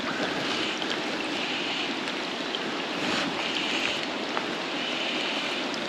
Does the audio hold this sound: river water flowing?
yes